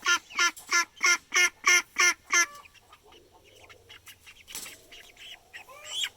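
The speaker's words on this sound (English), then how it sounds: "This is a chicken." A farm-raised meat chicken calls in a loud, rhythmic run of about seven close clucks, then falls quiet into faint background noise with a few scattered chirps.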